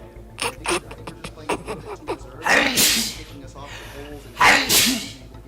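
At a Six Invitational esports match between SSG and Oxygen, a sharp sneeze bursts out over ongoing casting talk, followed a moment later by a second loud sneeze, both close and abrupt.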